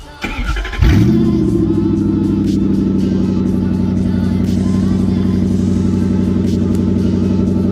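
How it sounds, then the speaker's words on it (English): A Toyota 1UZ V8 engine with its exhaust cut out cranks and catches, then settles into a loud, steady, rumbling idle, close by. "I'll do a little rev so you see."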